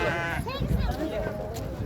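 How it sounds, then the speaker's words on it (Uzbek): Sheep bleat close by at a livestock market in Bishkek, with someone talking over the wavering calls throughout. "mana shu yerda 6 bosh qo'y turibdi, 3 tasi bo'g'oz deylar"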